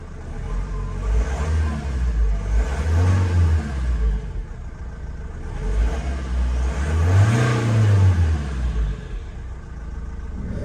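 A Vauxhall Vivaro 1.9 van engine, with a sticky throttle, rumbles at idle and swells into two loud revs that rise and fall, close by.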